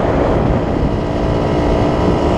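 A Derbi Senda 50 two-stroke motorcycle engine held at full throttle with upgraded parts, a steady, loud, unbroken drone close by with no change in pitch.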